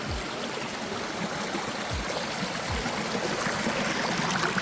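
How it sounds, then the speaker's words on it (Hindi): Fresh mountain water flowing down from the forested hills as a stream, a steady, full rushing wash that stays close and even throughout, with no talking. "फ्रेश वाटर कहाँ से आ रही है? जंगल पहाड़ ऊपर से आ रहा हो।"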